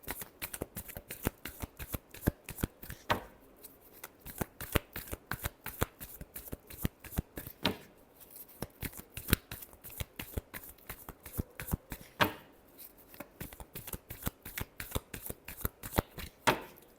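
Tarot cards are shuffled close up in a steady run of crisp riffling flicks and taps that last the whole stretch, quiet overall and with no voices.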